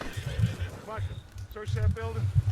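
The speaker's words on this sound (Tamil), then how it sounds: "உங்க குதிரையை கூப்பிடுறது விசிலடிச்சா வருமா?" A horse in Red Dead Redemption 2 whinnies and neighs twice among clip-clopping hooves, close and fairly loud, with someone talking over it.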